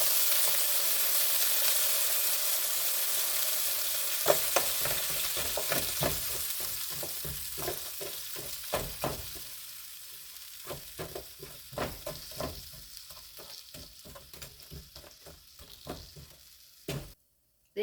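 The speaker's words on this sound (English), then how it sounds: "I'm gonna go ahead and dump in these frozen half moon slices and let's get this browning" Frozen half-moon zucchini slices frying in a lightly oiled pan, a steady close hiss and sizzle that eases over time, broken by scattered clacks of stirring and pan knocks.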